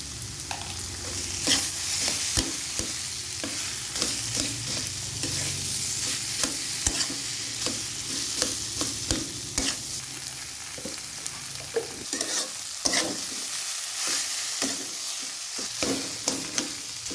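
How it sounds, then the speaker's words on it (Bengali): A potato and cauliflower paratha filling is stirred and mixed in a hot pan, with constant spatula scraping and tapping over a soft sizzle for a long, continuous stretch, close and fairly loud, with no voices. "দেখুন ভালো করে নেড়ে চেড়ে মিশিয়ে নিয়েছি"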